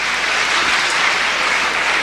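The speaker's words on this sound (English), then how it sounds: "give our Queensland visitor Dean Smith a big round of applause" Steady, dense applause from a crowd at a boxing event in Melbourne, welcoming a visiting Queensland fighter, loud and continuous throughout with no talk over it.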